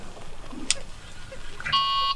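Carp fishing bite alarm with flat batteries gives a short, fairly close electronic beep near the end, thin and buzzy, after a quiet stretch of outdoor background on a cabin boat on a dam.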